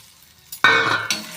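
Chana dal and red chillies hit hot oil in a pan with a sudden loud burst of sizzling after a quiet moment, followed by a metallic clink and continued close frying.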